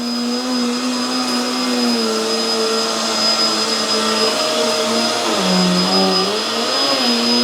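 A Hoover Tangle Guard vacuum cleaner runs on carpet with a loud, steady motor whine that drops in pitch midway as the brush roll slows under load, then recovers, with no talk.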